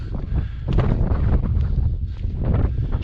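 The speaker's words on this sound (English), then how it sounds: "that wind is booking up here" Strong wind buffets the microphone at a high desert lookout in Grand Escalante, Utah, a loud, continuous low roar with gusty surges throughout.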